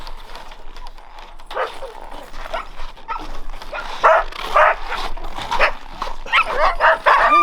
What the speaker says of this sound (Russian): Эта собака при любой погоде находит андатуру.